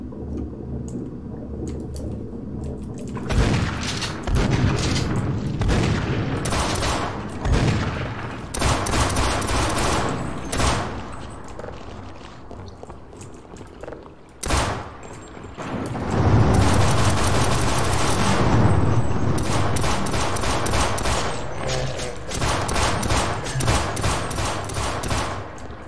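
Gunfire in the Afraid of Monsters video game: loud, rapid bursts of shots that repeat through the stretch, with short pauses between volleys and a heavier barrage near the middle.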